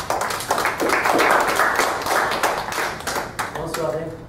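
Audience at a round table on the 2014 French municipal elections clapping in steady applause, fairly close and sustained, with voices mixed in throughout.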